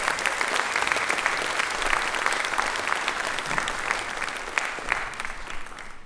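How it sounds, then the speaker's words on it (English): Audience at a school winter concert applauds for the band backers, a sustained, lively burst of clapping with sharp individual claps, steady throughout. "so a quick round of applause for them."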